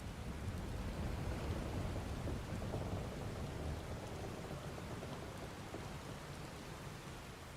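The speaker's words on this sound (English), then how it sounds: "Oh, there's a storm." A thunderstorm in Final Fantasy XIV Dawntrail rolls on as a steady, dense wash of heavy rain with a low rumbling undertone, constant and enveloping with no voices.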